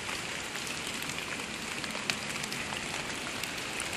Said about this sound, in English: Freezing rain still continuing